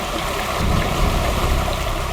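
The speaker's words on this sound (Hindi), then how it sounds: "वाटरफॉल कितना सुंदर है ना पायल?" Waterfall pouring steadily, a broad rushing wash of water that stays close and constant with a slight surge partway through, with no voices.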